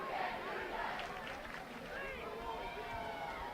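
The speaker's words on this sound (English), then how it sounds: "As the crowd chants, you can't do that." A football crowd at a high school game, Gross Catholic vs Beatrice, chanting together as a distant, steady roar of many voices that fills the whole stretch at low level.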